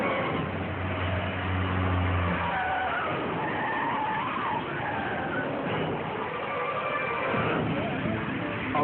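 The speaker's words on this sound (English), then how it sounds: "a rubbernecker blazes onto the scene, ramming another vehicle at full speed." On a freeway, a speeding car screeches in and rams another vehicle: loud, continuous tyre squeal and engine roar with wavering siren-like tones throughout.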